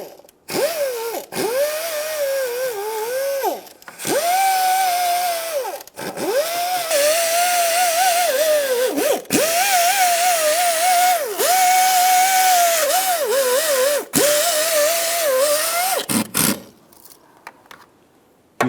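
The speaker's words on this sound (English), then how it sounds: "we can go ahead and use a power tool and gently clean it" A power tool cleans the cast head during a 1997-2006 Jeep Wrangler exhaust manifold job, whirring loudly and steadily in long bursts with brief drops in pitch and short pauses between passes, close by and without speech.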